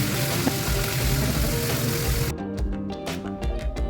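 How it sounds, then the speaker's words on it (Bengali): Chela fish frying in mustard oil makes a dense, close sizzle for about two seconds. The sound then thins to quieter crackles and pops, with no voices. "সর্ষের তেলে ভেজে নেব এপিট ওপিট করে লাল লাল করে ভেজে নেব মাছগুলো"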